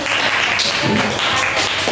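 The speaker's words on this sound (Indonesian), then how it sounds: "Tepuk tangan dulu langsung" Students in a sixth-grade classroom clap together, a dense burst of hand claps that rises and falls across the clip, close and fairly loud with some background chatter.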